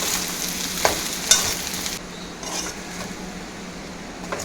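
Fried rice with spring onion being stir-fried in a pan, a loud close sizzle with a couple of sharp utensil knocks, then a quieter continuing fry, no voices.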